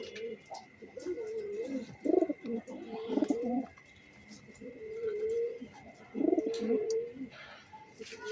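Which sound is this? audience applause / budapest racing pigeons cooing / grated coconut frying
budapest racing pigeons cooing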